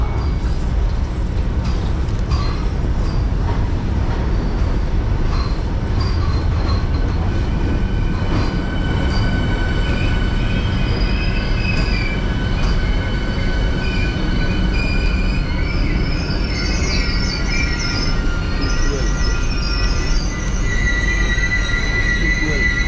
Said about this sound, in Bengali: ট্রেন আসুক দেখাচ্ছি তোমাদের the train 18 also known as Vande Bharat express